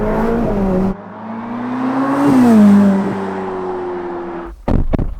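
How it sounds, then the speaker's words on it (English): A C8 Corvette Z06 with its naturally aspirated mid-mounted V8 runs loud and close, a brief burst cutting off, then a rising rev that climbs, peaks and eases back before a final sharp blast. "For the mid-engine Corvette experience, the most powerful, naturally aspirated V8"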